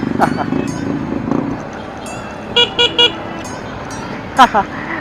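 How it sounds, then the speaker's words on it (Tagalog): A motorcycle horn, on a Honda TMX 125 Alpha in heavy traffic, gives several short honks: two paired beeps midway and a louder pair near the end. A voice talks over engine and road noise at the start. "Ang ganda ng busina, no?"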